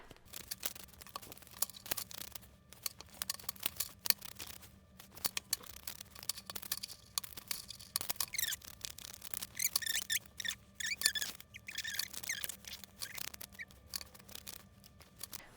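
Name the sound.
shuffling tarot cards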